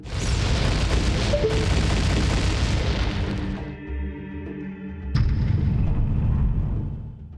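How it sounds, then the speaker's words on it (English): Bomb flowers blowing up across a gap in a Zelda game, two loud booming blasts, the first a long rumbling roar that fades into ringing tones, the second a sharp burst a few seconds later. "it hits the bomb flowers across the gap and blows them up, making the bridge"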